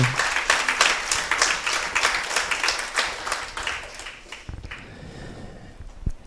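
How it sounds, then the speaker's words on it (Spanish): A church congregation claps steadily in a rhythmic burst of applause during a sermon that gradually fades, leaving a few scattered claps at the end. "Démosle un aplauso a Jesucristo"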